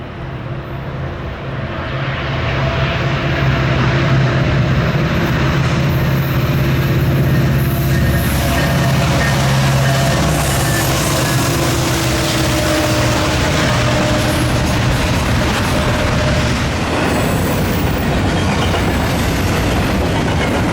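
Norfolk Southern NS 1069, the Virginian Heritage Unit, rolls loudly through a railroad crossing, its heavy rumble building within seconds and then holding steady with rattling wagon clatter and a sustained tonal drone.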